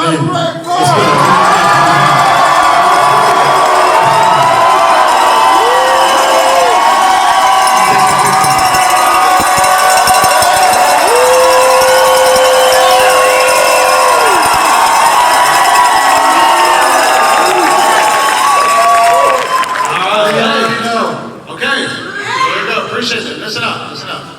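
Loud crowd at a corporate leadership rally cheering, yelling and clapping continuously for about twenty seconds, a dense roar with whoops and shouts, then tapering into scattered voices near the end.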